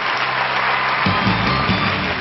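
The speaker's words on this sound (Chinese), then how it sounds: "各位观众，包老师掌声鼓励" A studio audience gives a brief round of applause for a magician's completed trick on a Chinese variety show, a dense wash of clapping mixed with music or crowd noise throughout.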